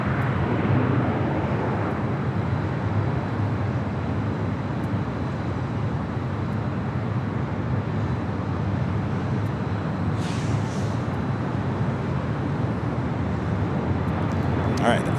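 Steady, broad jet roar of the Starlux flight 6 airliner arriving on the north side at Los Angeles LAX, holding at an even loudness throughout.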